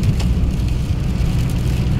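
Rain falls on a street in Glasgow on a Saturday night, a loud, constant hiss of drops with a low traffic-like rumble beneath, continuous and even from start to finish.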